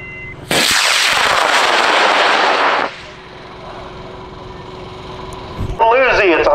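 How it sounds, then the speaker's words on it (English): A high-power amateur rocket with an H-class motor lifts off at a launch event, giving a sudden loud roaring burn of about two and a half seconds that cuts off sharply. Voices follow afterward. "It's a high-tech rocket,"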